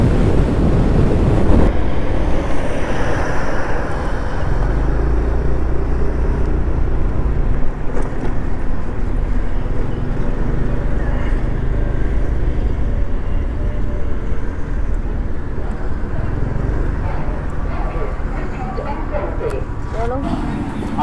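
A vehicle speeds along National Highway 83 on a long straight stretch in South India, with steady road roar and wind buffeting, while a person talks over it.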